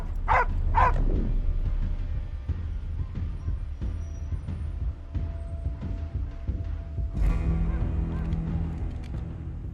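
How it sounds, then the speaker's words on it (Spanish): A dog in a tense film scene gives a couple of sharp close barks at the start, then softer yips and whimpers follow over a quiet, low musical background. "La tensión aumenta cuando escuchamos el ladrido del perro."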